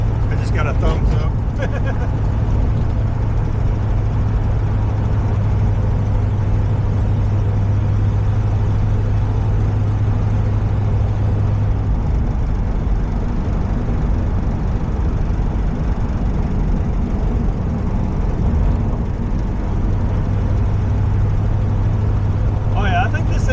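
Steady low hum of a 1937 Buick Century engine under way, with constant road rumble close up and someone speaking intermittently over the drive.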